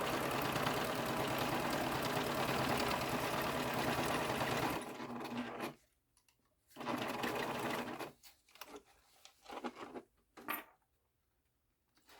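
A sewing machine runs steadily, top stitching a fabric wristlet bag, a continuous close mechanical whir for about five seconds, then several shorter starts and stops with quiet pauses between.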